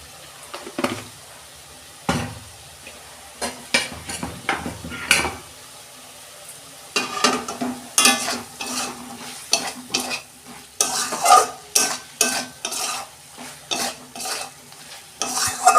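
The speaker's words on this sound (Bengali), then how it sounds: "সয়াবিন কষানো হয়ে গেছে" Soybean chunks are stirred and fried in a pan for a vegetarian Bengali dish, with irregular scraping clatter of a spoon against the pan over a soft sizzle, louder bursts coming in quick clusters.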